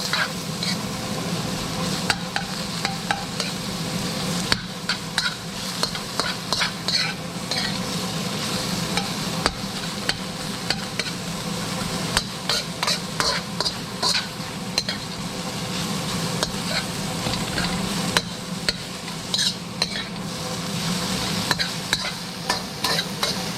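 Onions and pork stir-fry over high heat in a pan for Singapore noodles, a steady sizzle broken by frequent clacks and scrapes of the utensil tossing the food, with no one talking.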